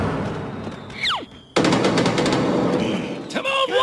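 Cartoon fireworks go off in a Timon and Pumbaa episode, with whistling rockets rising and falling, then a sudden loud burst into continuous crackling, popping bangs. Near and dense, more whistles closing the scene.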